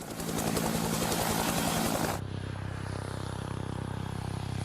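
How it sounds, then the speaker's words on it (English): Loud, steady helicopter noise with a rapid rhythmic rotor chop from the main rotor wake hitting the tail rotor wake, a sharp change in tone partway through as the drone continues evenly. "the first thing you hear from a helicopter is the sound of the wake from the main rotor"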